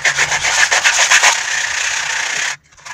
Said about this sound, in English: We want to sand that flush.